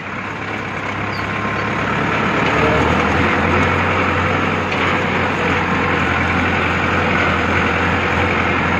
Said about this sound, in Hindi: ये देखिए ये 10 की स्पीड से भी चल रहा है सिर्फ ट्रैक्टर।